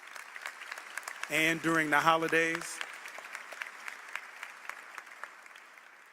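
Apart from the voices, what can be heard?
round of applause at memorial service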